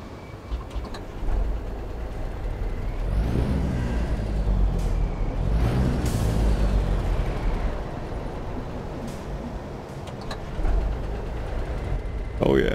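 A heavy diesel truck engine, a modded Cummins N14 in American Truck Simulator, rumbles steadily at close range, loud low drone throughout with occasional hissing bursts and revving swells.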